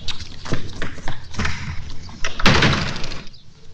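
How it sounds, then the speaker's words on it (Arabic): A door is slammed shut in an Egyptian comedy scene, one loud sharp bang near the middle among several knocks and clatters, close and prominent. "ما في بني ادمين بيرزعوا البيبان عادي يا بابا"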